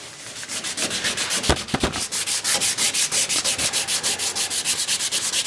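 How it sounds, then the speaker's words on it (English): Hand sanding or rubbing paint off a surface, a close, rhythmic back-and-forth scrubbing in steady strokes after a few sharp knocks, with no voices. "He's slowly rubbing his pink away. You gotta rub the paint."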